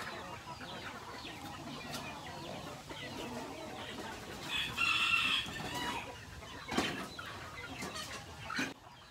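Roosters and hens on a Filipino poultry farm crow and cluck together in a steady farmyard chorus, with one loud nearby crow rising in the middle and scattered calls throughout.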